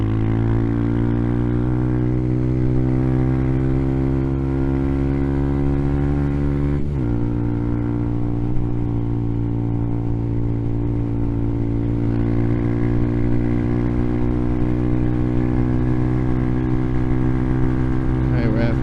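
A fully modified 2022 Amazon Hawk 250 motorcycle climbing an uphill on-ramp in fourth gear at about 55 mph, its engine droning loud and steady with a brief shift or bump partway, wind roar underneath.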